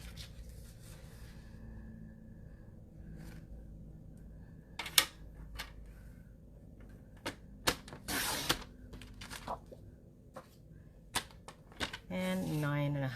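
A paper trimmer cutting a sheet of white cardstock, with sharp clicks and taps from handling followed by a brief rasping slice of the blade, some paper rustling, and a voice speaking at the end.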